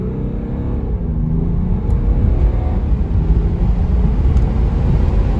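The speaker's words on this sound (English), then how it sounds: "Just come to a stop and floor it, just to do an acceleration run." A 2018 BMW G30 540d xDrive diesel sedan pulls away hard from a standstill on an uphill road, its engine holding a steady, loud low rumble throughout with no talk.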